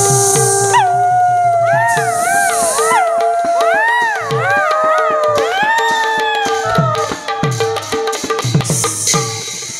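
A performer in an Assamese bhaona stage play imitates a dog's howl with long, wavering, rising and falling cries over sustained instrumental tones, loud and close.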